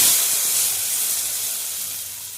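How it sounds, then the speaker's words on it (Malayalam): Hot coconut oil tempering with shallots and curry leaves is poured into a fish curry, giving a loud, bright hissing sizzle that fades gradually over a couple of seconds. "മീൻ കറിക്ക് ഉള്ള തൂമ്പിക്കലാണ് എടുത്ത് ഒഴിച്ചെടുക്കാം"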